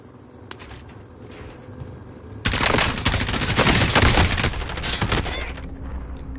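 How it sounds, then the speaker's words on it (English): Submachine gun fire in the video game Call of Duty: Warzone, a loud sustained burst of rapid automatic shots lasting several seconds after a quieter stretch of ambient game noise. "I've got an SMG."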